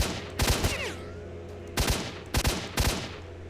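Enemy gunfire in STALKER Shadow of Chernobyl comes as short, sharp bursts of automatic shots, three clusters loud and close, separated by quieter gaps with a faint whistling ricochet.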